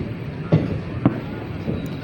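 A train's railway carriages rattle along the track on a long passenger trip, with two distinct clunks about half a second apart over a low rolling rumble.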